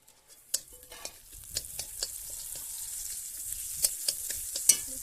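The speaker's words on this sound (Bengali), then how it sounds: "রসুন থেতলে দিয়েছি" Crushed garlic in a little hot oil in a home kitchen, with scattered spoon-and-pan clinks and stirring knocks over a soft, steady sizzle.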